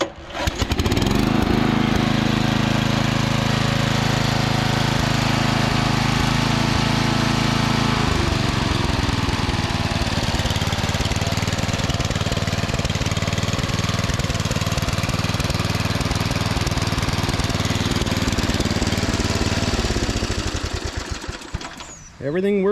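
A 2011 Craftsman PYT 9000 lawn tractor, freshly serviced with new oil, a cleaned carburetor and sharpened blades, runs loud and close with a steady, droning engine. Its pitch shifts partway through before it winds down and cuts off at the end.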